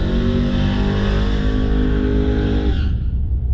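A boosted Toyota Supra drag car running 21 psi roars through a hard launch, its engine note loud and close and rising steadily before cutting off abruptly near the end, with no talking over it.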